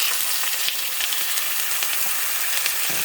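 Chicken browning in an extremely hot pan gives a steady, dense sizzle and crackle of frying fat, close and continuous throughout.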